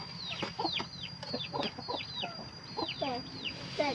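Chickens cluck repeatedly at close range while being fed red mushroom on a garden farm, with sharp, overlapping calls in quick succession.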